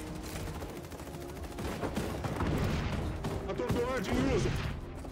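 Dense, rapid gunfire in the game XDefiant crackles almost continuously, with bursts of shots layered over a busy mix of effects and a faint voice.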